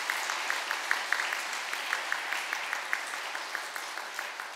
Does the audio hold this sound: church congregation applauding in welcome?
yes